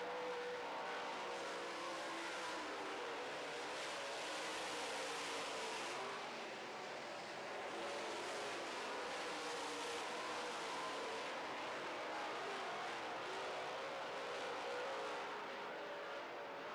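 Several late model race cars run hard on an oval track in a heat race, a loud continuous roar of engines that rises and dips as they pass, with a faint tire squeal and no talk.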